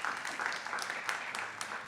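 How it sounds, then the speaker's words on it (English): An audience at an evening talk on art and AI gives a round of applause, a dense, steady wash of many hands clapping at moderate volume. "We can make a round of applause for them."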